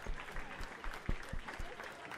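Cheering applause from the video game Slay the Princess, a moderately loud burst of clapping with sharp individual claps standing out over a steady crowd wash.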